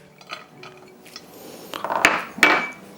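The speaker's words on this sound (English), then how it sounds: "we are just gonna mix all the ingredients here. So I'm gonna toss my garlic," Garlic and other ingredients for steamed fish are tossed into a bowl, heard as close clinks, taps and knocks of utensil on dish, building to two sharper clatters near the end, with no speech.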